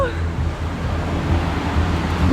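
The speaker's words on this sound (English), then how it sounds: "we've made it to the secret waterfall." A hidden waterfall in England's Lake District rushes with a constant broadband roar. Wind-like noise and faint talk sit beneath the steady outdoor wash.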